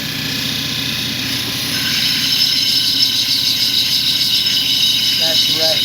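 A polishing wheel spins against a gem Easter egg as a spot is repolished: a steady, fairly loud machine whir with a bright hissing edge that grows slightly stronger midway.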